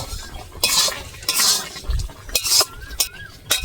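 Mango pickle being scraped from a pan onto a plate with a metal spoon, a quick series of close scraping strokes and sharp clinks of metal on metal, with faint sizzling under them.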